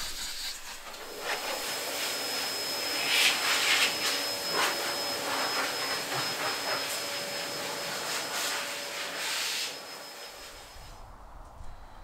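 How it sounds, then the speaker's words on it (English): A BigBoi BlowR touchless car dryer blows air in a steady, loud rushing whoosh with a faint tonal whine, running continuously before cutting off near the end. "So there you have it, what I'm going to coin as the world's best car dryer."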